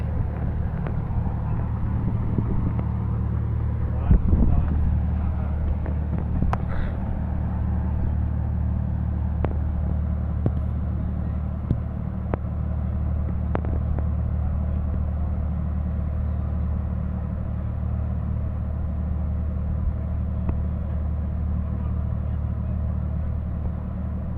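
A fishing vessel's engine rumbles low and steady, close and continuous, as a sister ship slowly comes alongside, with a few faint knocks and a brief bump near the start.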